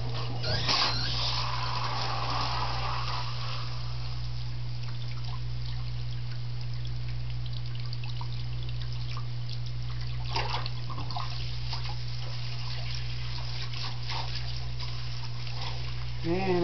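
Water running and draining from a tap while a cat is bathed, a continuous trickling flow with a low steady hum underneath and occasional splashes.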